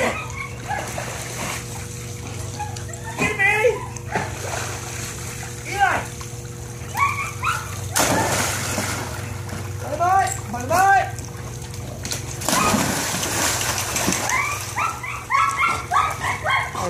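Water splashes and sloshes repeatedly in bursts as a dog splashes in a pool, whimpering and yipping, with people talking and laughing throughout.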